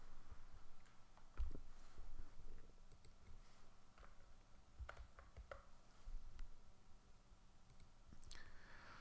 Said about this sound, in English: what would be easiest for me is maybe just typing it